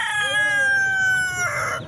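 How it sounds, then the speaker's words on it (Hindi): An Aseel rooster at a large chicken market in Pakistan gives one close, loud crow lasting under two seconds. A faint murmur of market background sits beneath it. "ये मुर्गा ने आज़ान भी दे दी साथ साथ।"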